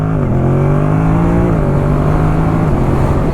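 A 2025 Yamaha MT-07 naked motorcycle revs up through the gears, a loud close engine note rising steadily with a quick dip at each shift, no voices over it.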